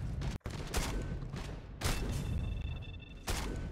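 Bursts of heavy weapon fire from Terminators in the game Space Hulk: Deathwing Enhanced Edition, three dense loud volleys separated by brief gaps, with a rumbling low thud under each burst.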